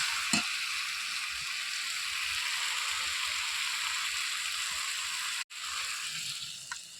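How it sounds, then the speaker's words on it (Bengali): Steady hiss of water pouring into a pot of bottle gourd curry with potatoes, close and continuous over sizzling, broken by a brief gap near the end before the flow resumes. "এরপরে জল দিয়ে দেবো।"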